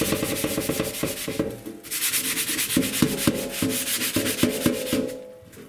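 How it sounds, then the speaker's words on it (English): A Scrub Daddy Big Daddy scrubber works back and forth over a rough surface in rhythmic, abrasive strokes, close and fairly loud, with a brief pause near the two-second mark before the scrubbing resumes. "So we're going to try scrubbing that off here."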